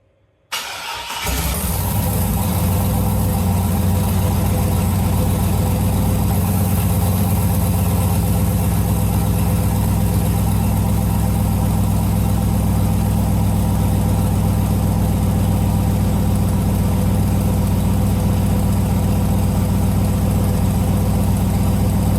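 A turbocharged LS V8 swapped into a Jeep YJ cranks briefly after a moment of quiet, fires, and settles into a loud, steady, rumbling idle that runs on without pause, close to the microphone.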